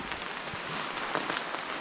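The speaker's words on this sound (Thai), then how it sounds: "ได้ยินเสียงฝน อ๋อ ตกหนักเลยครับ ตอนเนี้ย ฝนตกหนักมากครับตอนเนี้ย" Heavy rain pours down in a forest during a rainy-season hike, a brief dense hiss of drops pattering on leaves and surfaces, steady and moderately quiet.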